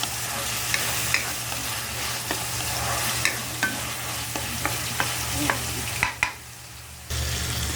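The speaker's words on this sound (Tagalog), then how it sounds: "Ito naman ang ating ginigisa." Ampalaya (bitter gourd) and egg sauté in a hot pan with a steady sizzle, while a spatula scrapes and stirs in sharp clicks and taps throughout; no one speaks.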